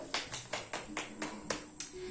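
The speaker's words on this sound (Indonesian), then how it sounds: "Beri tepuk tangan untuk Miftahul." In a classroom, a few people clap for a student, about eight sharp, evenly spaced claps in a steady rhythm, fairly faint and close.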